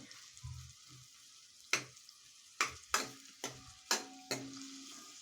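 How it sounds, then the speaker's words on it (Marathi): Onion sautés over low heat in a pan for paneer kolhapuri, with a soft sizzle under about six sharp, evenly spaced spatula scrapes and stirring strokes, close and quiet, with no talking. "लो टू हीट वर गॅस ठेवून कांदा परतून घ्यायचा आहे"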